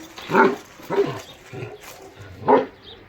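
A German Shepherd barks three times in short, loud bursts spaced about a second apart, with a faint whine between them.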